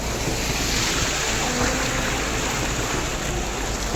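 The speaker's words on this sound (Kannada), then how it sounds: "ಚಿಕ್ಕ ನದಿ ಎಷ್ಟು ಚೆನ್ನಾಗಿ ಹರಿತಾ ಇದೆ ನೋಡಿ" A small mountain river rushes along a rocky bed in Uttarakhand, heard as a steady, loud, unbroken roar of flowing water with no voices.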